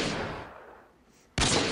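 Gunfire from the video game Modern Warfare 2: a loud broadband shot burst that decays over about a second, then a second sharp blast cuts in abruptly near the end, with no talk.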